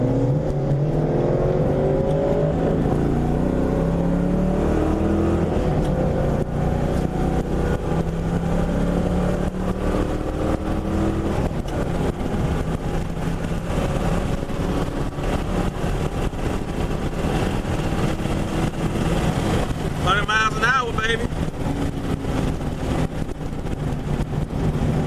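A cammed 2000 Ford Mustang GT engine rumbles loudly and continuously while driving, with revs rising and falling through gear changes and a choppy idle-like lope underneath.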